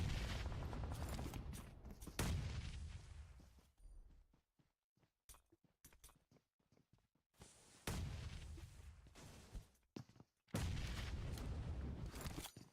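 Grenade blasts and gunfire in PUBG Mobile during a professional esports match on the Miramar map, coming as loud, dense bursts that are broken by scattered sharp cracks and short silent gaps.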